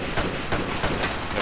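Gunfire in Grand Theft Auto 4 with a realism mod, a rapid series of sharp, loud shots cracking at irregular intervals over a dense, steady background roar.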